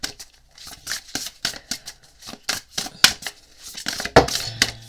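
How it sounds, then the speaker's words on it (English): Large tarot cards being shuffled close up: a quick, irregular run of dry papery riffles and soft slaps that starts and stops several times, with no one talking. "Okay, let's give these a good shuffle. They're very big cards"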